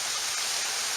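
A small stream outdoors gives off a continuous, even hiss of rushing water, close and steady with no voices.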